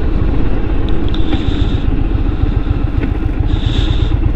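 A 2022 Indian Super Chief Limited cruiser motorcycle engine rumbles steadily at close range, a deep continuous idle with faint clatter and a few light metallic ticks on top.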